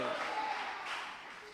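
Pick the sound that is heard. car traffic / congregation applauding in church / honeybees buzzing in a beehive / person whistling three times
congregation applauding in church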